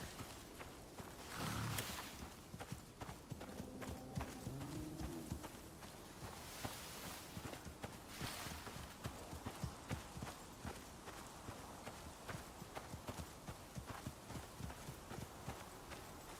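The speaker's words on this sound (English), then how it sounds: "So this is gonna be a test of this horse to see if it can get down the ramp." In the survival game Icarus, a horse walks down a ramp, its hooves knocking in a steady, fairly close clip-clop rhythm over a constant low background hum.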